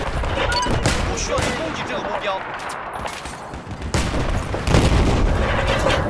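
Gunfire in Battlefield 4 on the Siege of Shanghai map, with rapid bursts of shots and sharp booms scattered through a chaotic firefight, a player talking over the noise.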